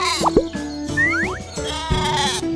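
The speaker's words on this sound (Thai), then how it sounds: "และนี่ก็คือแกะนั่นเอง แกะชอบอยู่กันเป็นฝูง แกะแบะแบะแบะแบะ" A sheep bleats several times in quick succession, loud and close, with wavering cries separated by short pauses.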